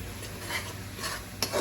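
Mutton rezala spice paste with ground garam masala sautéing in a pot, giving a soft, close sizzle and the scrape of stirring, with a brief utensil clink near the end.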